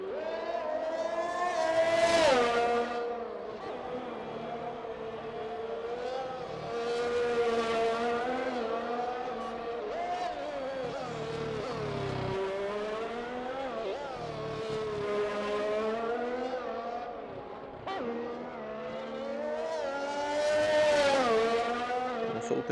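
Mercedes race car on the Singapore circuit in a racing video game, a continuous high engine whine rising and falling through gear changes and corners, with loud revving peaks near the start and end.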